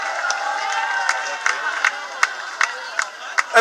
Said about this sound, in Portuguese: Uma salva de palmas para a Juliana.